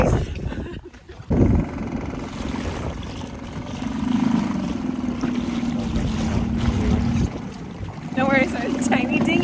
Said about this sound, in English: Don't worry, it's a tiny dinghy, and the engine sounds funny.